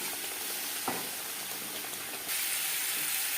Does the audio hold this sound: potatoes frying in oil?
yes